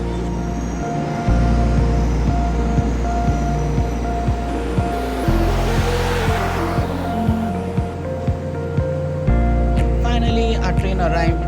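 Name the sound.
train arriving at railway station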